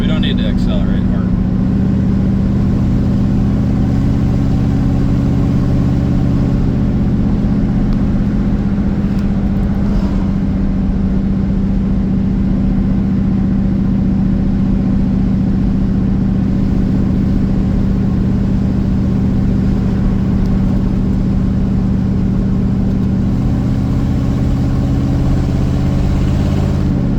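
Buick 455 V8 running steadily for a long stretch, a loud, continuous low engine drone with little change in pitch, heard up close and without clear speech.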